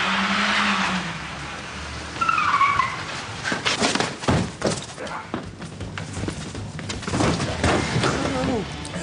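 Car engine and tyre skids on a TV police-drama film shoot, loud revving and brief screeches amid busy street noise, with people talking over it.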